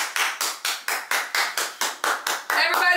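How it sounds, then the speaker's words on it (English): Steady hand clapping, about ten evenly spaced claps in a row, close and crisp, ending in a quicker, louder burst, in a living room after a makeover reveal. "Everybody give him a hand."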